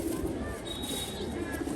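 A pigeon chick coos softly in a steady, low murmur under dense background noise, with faint chirps from other birds in the distance and no voices.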